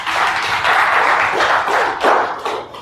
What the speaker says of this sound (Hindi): इसके लिए तालियां बजाओ